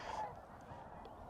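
Snow geese give a brief burst of nasal honking, faint and somewhat distant, over a low steady rumble of background noise.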